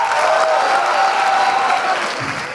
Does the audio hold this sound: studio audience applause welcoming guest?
yes